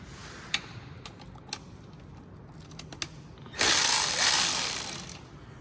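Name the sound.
loosening transmission pan bolts on a Mercedes-Benz W204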